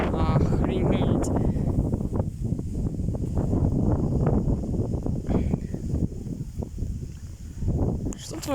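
Strong gusting wind of about 20 metres per second sweeps across an open field in a storm, buffeting the microphone in a continuous rough roar while someone talks over it.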